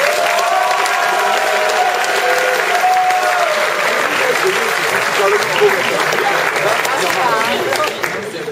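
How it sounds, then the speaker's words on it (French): Thunderous applause from a school talent-show audience fills the hall for performer Baptiste Martin, steady, loud and continuous, with scattered cheers and voices underneath before it thins slightly at the end. "faire un tonnerre d'applaudissements pour Baptiste Martin"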